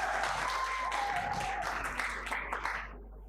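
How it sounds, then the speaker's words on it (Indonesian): Audience applause at a church praise-and-worship evening celebrating Indonesian Independence Day, a dense steady clapping that fades out over the last half second, with a faint voice at the start. "Kita berikan tepuk tangan yang meriah sekali lagi."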